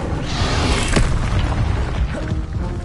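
A fiery Incendio spell cast in the Hogwarts Legacy game bursts with a loud whooshing boom near the one-second mark, then a roaring crackle that trails off over a steady rumbling game-effect background.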